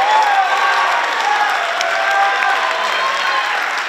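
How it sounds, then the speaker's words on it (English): A school audience at a high school jazz band festival applauds the student performers, with sustained, even clapping and some crowd cheering throughout, fairly loud and close. "how about a big round of applause for all of our student performers tonight"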